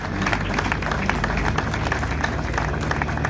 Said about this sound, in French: Maintenant, on peut applaudir le...